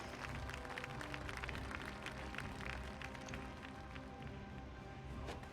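A crowd claps in a Final Fantasy XIV cutscene, a faint, steady patter of many hands running throughout without voices.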